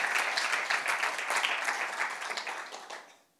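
A church congregation applauds newcomers and visitors, a dense, steady burst of many hands clapping in a room that fades out over the last half second, with no voices over it.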